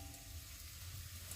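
Onion and garlic sautéing in a pan for lechon paksiw, a steady soft sizzle of frying at close range with no talking.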